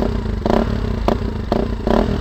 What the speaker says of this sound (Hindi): अभी DB किलर के साथ मैं साउंड सुना देता हूँ